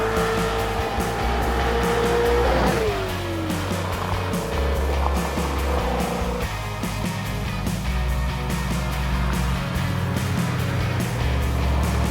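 An LS-swapped 1989 Ford Mustang Fox Body accelerates on the road, its engine note climbing and falling through gear changes with a brief tyre squeal, heard from inside the car as a loud, throaty, continuous drone.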